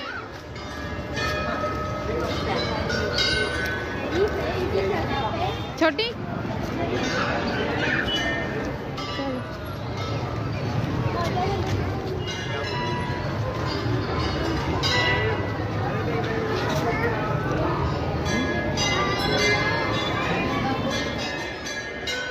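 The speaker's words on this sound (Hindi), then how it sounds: "मंदिर की घंटी किस तरह से सुनाई दे रही है" Hindu temple bells ring amid a dense Mahashivratri crowd at a Shiva temple, a steady metallic clangour blended into loud, constant crowd murmur, with someone talking over the din throughout.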